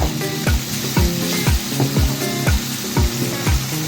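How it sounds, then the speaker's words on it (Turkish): Minced meat frying with red peppers in a pan, stirred continuously: a loud, even sizzle broken by regular spoon scrapes and knocks about every half second, close up and with no talking. "şimdi sürekli karıştırarak kıymamı kavurmaya devam ediyorum."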